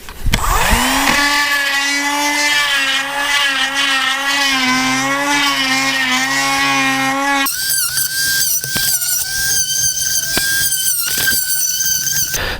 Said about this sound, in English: So I got the deep grooves done with that Dremel